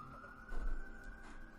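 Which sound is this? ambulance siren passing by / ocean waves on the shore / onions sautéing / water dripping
ambulance siren passing by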